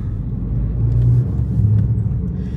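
A car engine runs at about 2000 rpm with a low, steady thumping rumble, close by and fairly loud, with no voices.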